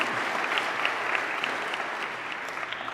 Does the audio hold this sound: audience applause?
yes